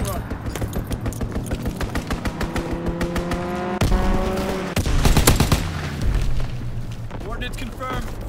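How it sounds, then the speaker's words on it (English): Rapid gunfire bursts and heavy booms in a multiplayer shooter game, loud rattling volleys with a big blast midway, while voices talk over the action. "Fighter pilot inbound."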